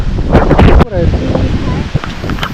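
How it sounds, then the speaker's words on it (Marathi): Strong wind gusts through dense forest, giving a steady broadband rush and rustle. People talk loudly over it at the start. "मस्त वारा भरपूर सुटला वारा"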